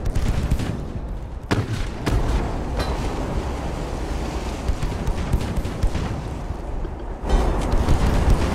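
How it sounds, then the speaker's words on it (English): Aft guns of a warship firing in the naval video game Ultimate Admiral: Dreadnoughts, a dense continuous rumble of booming cannon fire with a few sharper distinct blasts and a heavier surge near the end. "now we only have our aft guns to play with. And they're shooting off God knows where"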